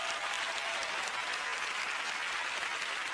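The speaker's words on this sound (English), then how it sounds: "Give her a huge round of applause" An audience applauding at a magic show fills the whole stretch, a steady dense roar of clapping at moderate distance, even and unbroken from start to finish.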